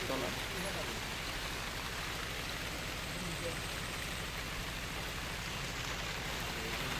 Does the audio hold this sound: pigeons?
no